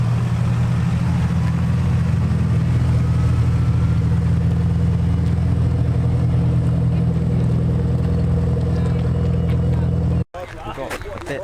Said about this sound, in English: There's an Evo, is that 5 or 4 now coming out?